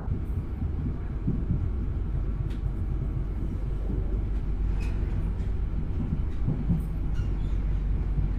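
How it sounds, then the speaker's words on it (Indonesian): A passenger train rumbles steadily through Arjawinangun station in Indonesia, low and continuous, with faint clicks and metallic squeals scattered over the noise. "ada juga perjalanan kereta api Argo Cirebon yang berhenti di stasiun Arjawinangun ini"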